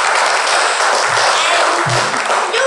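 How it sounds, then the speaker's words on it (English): Steady, loud applause from an audience welcoming a guest speaker at a documentary theatre event, a continuous wash of clapping from many hands with a few low thumps. "Let's give him a big hand of round of applause"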